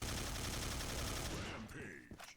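Rapid bursts of FAMAS rifle fire in the video game Counter-Strike Online 2, a dense loud volley that thins into scattered shots and clatter toward the end.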